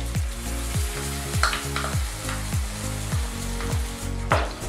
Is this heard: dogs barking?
no